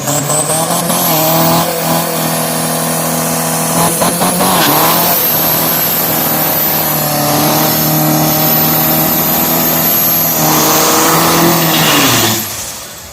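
A loud diesel Mitsubishi L200 pickup engine revs hard and roars continuously during a drag race, pitch climbing and falling as it accelerates down the track, then cuts off abruptly near the end.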